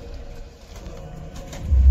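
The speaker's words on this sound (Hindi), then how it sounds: "ये मुन्ना भाई ने हमारे नए कबूतर खोल लिए हैं।" A large flock of about 105 newly released pigeons coos softly and faintly against a low ambient background, with a louder rumble rising at the end.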